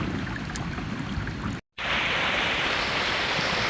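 Cold water of the Panjkora river rushing past midstream, a loud, close, continuous roar broken once by a brief silent gap before resuming even stronger.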